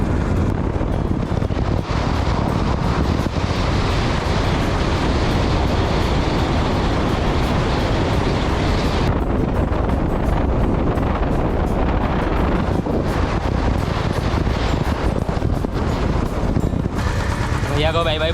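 Heavy, constant wind buffeting the microphone while riding pillion on a motorbike on a 25-kilometre road trip to Honavar, a loud unbroken roar with engine rumble underneath and brief lulls.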